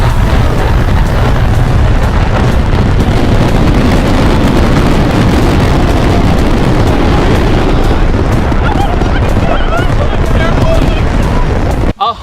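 A huge $40,000 firework blasts off with a deafening, sustained roar of explosions and crackling bursts, loud and close the whole way before cutting off abruptly near the end.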